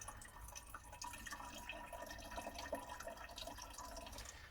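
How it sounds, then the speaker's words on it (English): Water squeezed through a filter bag trickles and drips steadily into a container, a faint, continuous patter of small drops with no talking. "it just helps to add with the pressure for forcing the water through"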